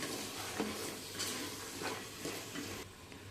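A spoon stirs and scrapes through thick red chickpea curry with garam masala in a pan, with soft sizzling underneath and a few sharper clinks against the metal.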